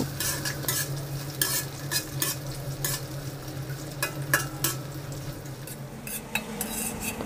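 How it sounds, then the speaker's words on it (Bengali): Onion and native garlic cloves frying in a pan, a close continuous sizzle with frequent metallic scrapes and clinks from a spatula stirring against the pan, no voices. "এবার পেঁয়াজ রসুন হালকা বাদামি কালার করে ভেজে নিব।"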